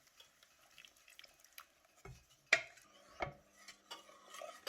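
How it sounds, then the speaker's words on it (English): A spoon stirs sugar into chopped pineapple in a bowl, giving quiet scraping and a few sharp clinks against the dish, sparse and close, with no talking. "You just want to stir it in until that sugar dissolves"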